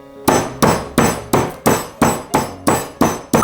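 Cardamom pods for chai being crushed, about nine sharp, evenly spaced pounding strikes close by, each with a brief ringing decay, and no talking.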